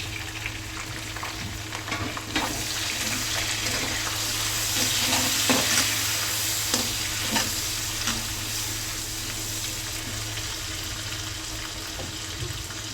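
Rohu fish fries in a pan with green chillies and tomato, giving a continuous soft sizzle with occasional stirring scrapes, steady and moderately close, with no talking.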